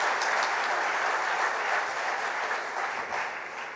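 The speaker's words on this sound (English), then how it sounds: "A great round of applause." Full, continuous applause from a large audience at a school Founder's Day event, even and sustained before fading slightly near the end.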